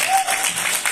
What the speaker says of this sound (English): I think that's like a round of applause, right?